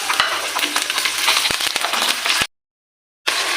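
Half a kilo of boneless chicken sizzles steadily in a hot pan for chicken karela, with sharp crackles and spatters popping through the hiss before a brief cut to silence and a return of the frying.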